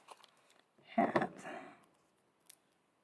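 Scissors snip through card stock for a paper-craft project, a short close burst of cutting about a second long, with a faint click afterward in a quiet room.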